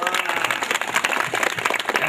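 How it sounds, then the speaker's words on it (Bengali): An audience at a gathering in Gazipur breaks into loud, sustained applause, many hands clapping in a dense, fast patter with a faint crowd murmur underneath. "তাদের সবার জন্য আপনারা সবাই একটা জোরে হাততালি দিবেন"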